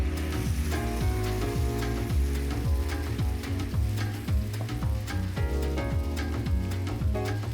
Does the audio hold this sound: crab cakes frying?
yes